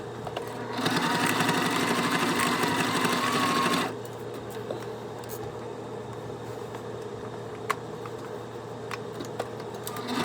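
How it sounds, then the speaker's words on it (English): A sewing machine stitching down a bag handle accent piece, a fast, even mechanical whirr running close for about three seconds, then stopping into quiet room noise with a few small clicks. "we're going to sew that down"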